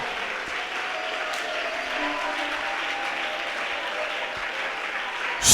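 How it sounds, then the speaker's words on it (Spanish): A church congregation applauds steadily for the whole stretch, a dense, even wash of clapping that rises a little louder at the very end. "Y aplauda la presencia del Señor"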